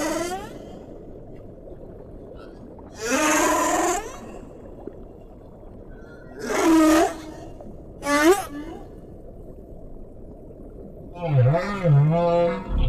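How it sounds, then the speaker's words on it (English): A male humpback whale sings underwater: long, moaning and whooping calls swoop up and down over a constant low rumbling hiss, coming in separate phrases a few seconds apart. "The male humpback may sing for hours or even days."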